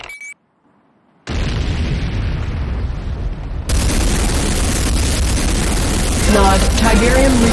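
Tiberium Refinery exploding in Command & Conquer Renegade, heard as sudden loud booms that turn into a sustained roar of blast and battle noise, with a voice heard briefly.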